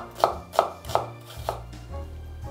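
A knife slices an onion into thin strips about half a centimetre thick, making four crisp, evenly spaced chops on a board, followed by a softer trailing cut.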